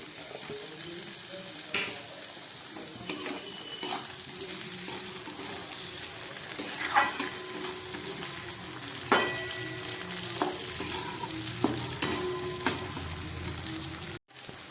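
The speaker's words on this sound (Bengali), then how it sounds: "পেঁয়াজটা খানিকটা ভাজা হয়ে গেছে, আর সামান্য হবে" Sliced onion and freshly added chopped tomato sizzle steadily in a hot pan for an egg rezala, with occasional stirring clinks and scrapes standing out over the even frying hiss.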